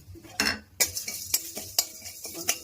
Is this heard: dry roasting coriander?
yes